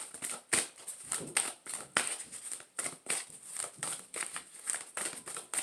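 Tarot cards shuffled close up in a steady rhythm of crisp, papery swishes and flicks repeating for several seconds.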